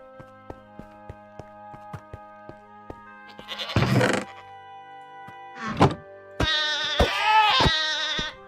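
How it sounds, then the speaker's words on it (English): A goat in the StoneBlock 4 Minecraft modpack bleats in two loud, wavering bursts. Soft, regular clicks and thunks from the game come before them. "we're gonna be attacked by the goat"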